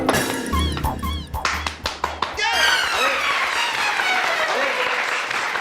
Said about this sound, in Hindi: अरे ताली बजाने के लिए नहीं बोल रहा हूँ